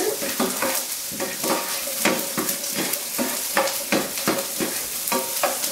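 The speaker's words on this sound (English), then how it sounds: "And you fry till golden brown" Onions, about two small ones, frying in a pan until golden brown: a steady close sizzle broken by rhythmic stirring strokes and scrapes every half second or so, with no talking.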